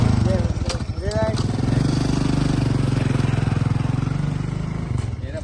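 A motorcycle engine runs steadily and close by, a low throbbing idle that holds for several seconds beneath people talking.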